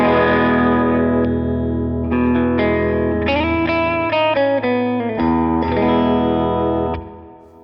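Clean-toned electric guitar with humbucker pickups through a Vox AC30 amp model on a Fractal Axe-FX, playing sustained chords and melodic changes with a slight edge and ambient reverb, ringing out alone before fading.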